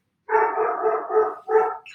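A dog barks outside a house in a quick run of about five or six moderately loud barks, a short pause, then one more, with no one talking over it.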